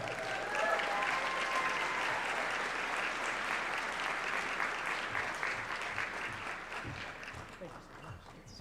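Audience at a dinner event applauds steadily, a dense wash of clapping that fades a little toward the end as a speaker is welcomed to the stage.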